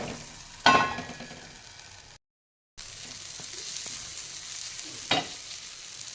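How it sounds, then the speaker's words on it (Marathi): Coriander leaves frying in a pan for pigeon pea chutney, a soft steady sizzle with a couple of sharp utensil scrapes or clinks, broken by a brief silent gap midway. "थोडी कोथिंबीर घालून परतून घ्या."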